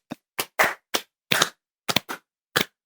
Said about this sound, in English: We're gonna do the applause shit.